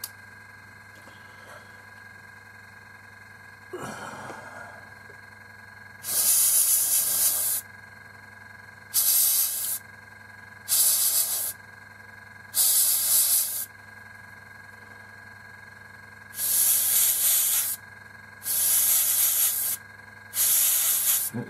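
An airbrush spraying paint onto an Academy 1/72 scale North American Mustang model aircraft, heard as about eight sharp hissing bursts, each a second or so long, separated by short pauses over a faint background hum.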